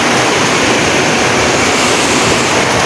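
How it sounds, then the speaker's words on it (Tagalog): Heavy rain roars in a dense, constant hiss, loud and close, filling the moment without a break. "Ang guys, ang lakas na naman ng ulan."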